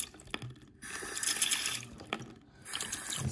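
Water rushes through a mini Kohler Dexter urinal during a bucket-style siphon flush, coming in splashing bursts separated by short pauses, close and clear with no talk.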